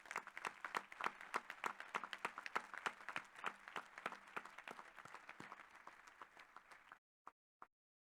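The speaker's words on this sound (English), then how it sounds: "please rise and accept a wonderful round of applause for the graduates in the class of 2019" Applause for the graduates at a 2019 graduate commencement ceremony, a fairly sparse, distant clapping with individual claps audible, continuing for several seconds before abruptly stopping and leaving a couple of final isolated claps.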